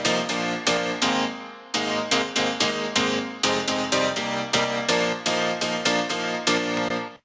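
Layered piano and synth keys built from Nexus libraries and an M1 sound in Ableton, punchy rhythmic chord stabs repeating in a bouncy pattern, bright and full with no voices.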